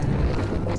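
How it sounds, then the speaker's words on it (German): Strong wind buffets the microphone while kayaking on the open sea with some swell, a steady broadband roar with heavy low rumble filling the whole moment, no voices. "wir haben heute einen ziemlichen Wind und ein bisschen einen Wellengang"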